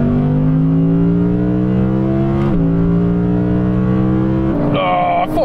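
An Audi R8 GT and RS6 GT accelerate hard in third gear from about 80 km/h, with a loud, close engine note rising steadily, briefly dipping, climbing again and then falling away abruptly near the end.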